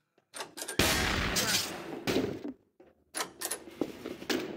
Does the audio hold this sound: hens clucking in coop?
no